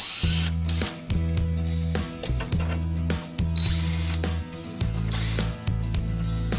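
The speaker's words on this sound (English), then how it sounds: "The solid body with 1/4-inch hex quick connect easily attaches to any power drill." A power drill fitted with a multi-bit screwdriver and nut driver adapter runs in repeated bursts, whirring loudly then stopping and restarting several times, with a ratcheting mechanical rattle and no voices.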